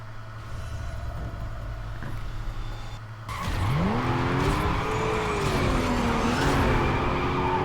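Race cars in Need for Speed Carbon roar off the line together after a quiet idle, engines surging into a loud, sustained, rising howl with tire noise, close and continuous.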